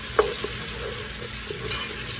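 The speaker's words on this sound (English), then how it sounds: "I first heat up some oil, then I'm gonna add some onions to it" Onions frying in hot oil in a pot for a Malawi-style chicken stew, a steady soft sizzle and hiss with an occasional small pop, heard up close without talk.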